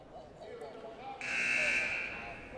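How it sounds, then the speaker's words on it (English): A buzzer at a high school basketball game sounds mid-shot, a loud steady electronic tone that starts around the middle of the clip and holds for about a second over crowd noise and talk. "the buzzer goes off mid-shot for Colton Mills"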